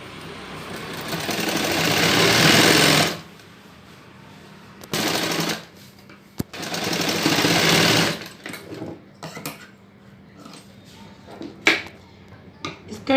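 Sewing machine running straight stitches along skirt fabric, a loud close whir in two long bursts separated by pauses, followed by short clicks and handling noises.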